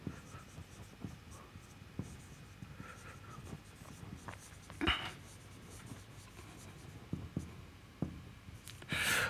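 Writing an equation out by hand during a maths lesson on Euler-Cauchy equations: soft, intermittent pen or chalk strokes with light scratchy rubs, quiet and close, with no talking.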